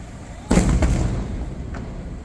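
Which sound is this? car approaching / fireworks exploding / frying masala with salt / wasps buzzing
fireworks exploding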